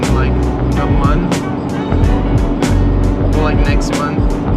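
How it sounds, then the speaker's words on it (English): Road traffic around a moving car on the way to work: a steady engine and road rumble fills the background while repeated whooshes of passing vehicles sweep by every half second or so, fairly loud and close. "we got a bit of traffic"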